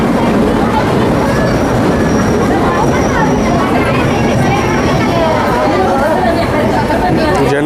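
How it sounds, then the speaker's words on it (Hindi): South Bihar Express, a Durg to Ara train, arriving at a crowded Indian station: loud rolling wheels with faint squeals under continuous chatter from a dense crowd on the platform. "3287 दुर्ग से आरा को जाने वाली साउथ बिहार एक्सप्रेस का अराइवल हो रहा है"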